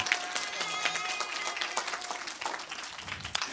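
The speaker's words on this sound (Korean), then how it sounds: "우리 옆에 사람 잘 되면 박수 좀 쳐줘요" Children clapping for a friend during a church Sunday school lesson, a steady patter of many small hands, with voices mixed in throughout.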